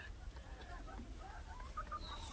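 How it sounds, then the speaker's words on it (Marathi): Chickens cluck softly near their coop at a village home, a few low, distant calls drifting over a steady outdoor background hum. "इकडं कोंबड्याचं घर आहे आपलं"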